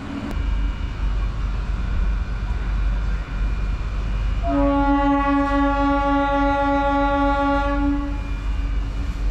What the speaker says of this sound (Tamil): இப்போ கரண்ட்டாக போய்ட்டுருக்க அந்த 3 ஃபேஸ் மெமு இருக்குது பார்த்தீங்களா